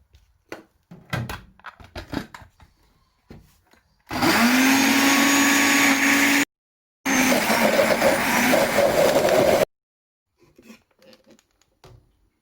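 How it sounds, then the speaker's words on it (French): A blender purées a fish marinade paste with added oil and salt, running loudly in two long bursts separated by a brief pause, with quiet kitchen handling sounds before and after. "Je rajoute de l'huile pour aider le mixeur"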